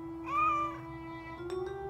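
A cartoon cat gives one clear rising-and-falling meow near the start, followed by a shorter second mew, over a steady background hum.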